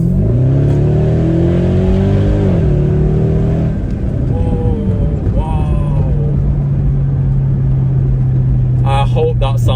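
A loud Mercedes-Benz ML63 AMG engine revs and accelerates on a country road, its pitch climbing in steps through gear changes, droning steadily and close by.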